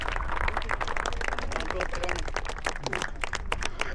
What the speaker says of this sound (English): please join me in giving our volunteers a round of applause